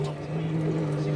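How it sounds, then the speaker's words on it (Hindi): Water pump in an air cooler running during a repair check, a steady low electric hum with a constant tone, heard under someone talking. "ये पंप चल चुका, आपको आवाज़ सुनाई दे रही होगी।"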